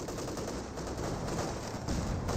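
Company of Heroes 2 battle gunfire sounds as a dense, constant crackle of machine-gun and rifle shots, with no pauses and no voices.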